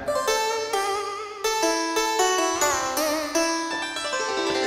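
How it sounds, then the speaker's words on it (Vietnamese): A Kurtzman SV800 keyboard plays its đàn tranh zither voice in a clear, close melody of bright plucked notes that ring and decay one after another, with no voices. "đó là tiếng đàn tranh"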